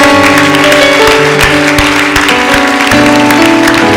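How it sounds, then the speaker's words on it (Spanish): Church congregation applauding during a bilingual Spanish-English sermon, loud clapping layered over sustained music-like tones. "Le quiero dar un aplauso a Cristo."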